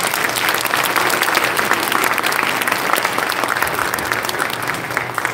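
A church congregation at a March 1st Independence Movement Day memorial service applauds to welcome a pastor to the pulpit, a loud, dense, steady round of clapping from a large crowd that holds for several seconds.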